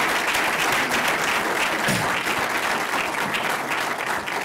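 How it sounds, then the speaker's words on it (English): A large audience at a surgical health care forum in New York applauds the panelists and speakers, a broad sustained roar of clapping that thins slightly toward the end. "all the panelists and all the speakers really deserve a round of applause"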